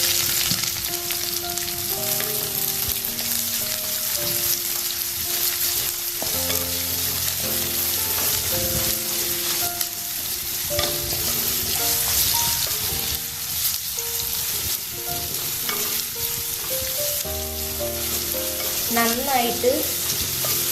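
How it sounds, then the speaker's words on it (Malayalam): Chopped onions fry in a pan for a Kerala tuna chilli fish curry, a steady loud sizzle with repeated stirring scrapes throughout and a brief spoken word. "ഉള്ളിക്ക് ബ്രൗൺ കളർ ആവണ വരെയും നമുക്ക് ഇളക്കി കൊടുക്കാം"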